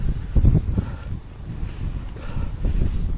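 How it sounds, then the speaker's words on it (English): Strong wind buffets and roars across the microphone in uneven gusts, a low rumbling rush with no voices. "but it's very windy"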